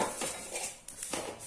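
Quiet dry-roasting of moringa (drumstick) leaves in a pan: a few soft swishes and scrapes as a utensil stirs the leaves against the metal, with short pauses between strokes.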